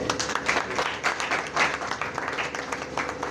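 A congregation at a church service claps together, a lively burst of many hands that rises and falls in uneven waves, with faint voices mixed in beneath the applause.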